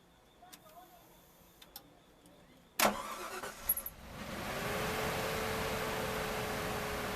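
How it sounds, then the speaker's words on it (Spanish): A car engine is started during a battery check with a cheap multimeter. Faint ticking gives way to a sudden crank and catch, then a steady idle settles in. "Ahora vamos a prender el carro"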